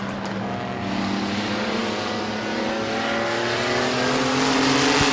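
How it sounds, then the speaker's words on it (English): Racing mini trucks roar around the Midvale Speedway oval during a heat race, a loud, steady, droning blend of engines with a pitch that slowly climbs and swells near the end, with no commentary over it. "Really good racing in this mini truck heat race with a half a lap to go"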